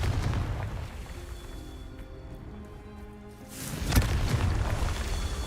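A Confringo blasting spell explodes in Hogwarts Legacy with a sharp, punchy boom that swells into a broad rumbling roar, following a brief quieter lull.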